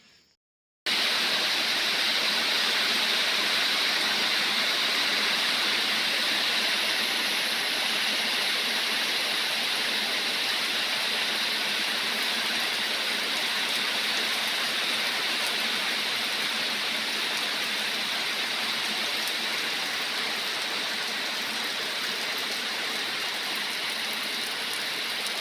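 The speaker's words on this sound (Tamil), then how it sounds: "மழை பார்த்திங்கன்னா 2 மணிக்கே வந்துருச்சுங்க." Afternoon rain falls steadily on a vegetable farm in June, a dense, even hiss that starts abruptly and continues for the whole span with no voices.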